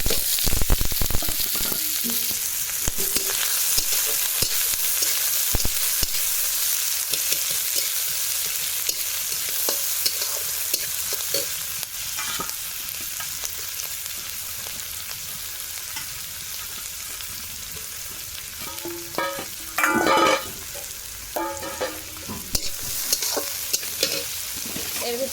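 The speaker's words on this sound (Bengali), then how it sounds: "এই যে পেঁয়াজ আর রসুন হালকা আমি ছেঁচে নিয়েছি, আর কাঁচা লঙ্কা। আর এখানে তেল গরম হয়ে গেছে, তো এটাকে আগে ভাজা ভাজা" Crushed onion, garlic and green chilli frying in hot oil, a loud continuous close-up sizzle lasting throughout, with occasional spatula stirring and scraping toward the end.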